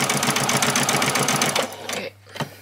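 A sewing machine stitches a doll's dress in a fast, even rattle of stitches lasting about two seconds, loud and close, then stops, leaving a faint hum and a small click.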